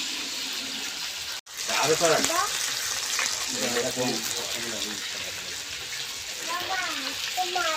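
Small pond rohu fish frying in a pan in a home-style kitchen, giving a steady close sizzle that breaks off briefly, with a voice talking over it at intervals.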